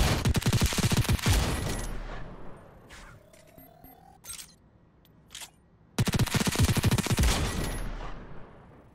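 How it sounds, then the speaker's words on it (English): Automatic gun firing at the gun range in the Robo Recall VR game, two loud rapid bursts of gunfire at the start and end with quieter mechanical clicks and thuds between them. "The automatic fire is pretty good, but there's so much recoil that it's just unusable."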